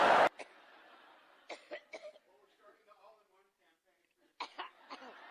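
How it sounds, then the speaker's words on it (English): Someone in a coughing fit: one loud, harsh cough opens, then a string of fainter, clustered coughs and throat noises follows, with a final burst of coughs near the end. "The coughing fits, which is yet another side effect of strokes."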